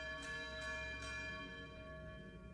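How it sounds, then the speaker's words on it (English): A bell rings in the video game Outer Wilds, a few soft repeated chimes ringing over a sustained tonal game ambience, fairly quiet. "so that's a bell waking me up"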